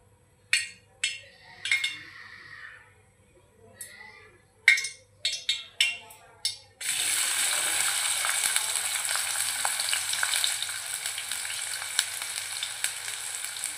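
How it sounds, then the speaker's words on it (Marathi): Onion dropped into hot oil for a mutton curry starts a loud, steady sizzle that carries on unbroken, preceded by a few sharp clinks and taps of utensils and glass. "तेल गरम झालं की यामध्ये आपल्याला कांदा टाकायचा आहे."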